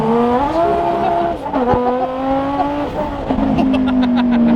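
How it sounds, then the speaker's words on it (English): Engine noise from a race between a Bugatti Veyron and a Volkswagen: loud, close engines rising and holding in pitch as the cars accelerate hard, with harmonic whine, brief squeal and gear-change dips throughout. "This car cannot put down the power at all."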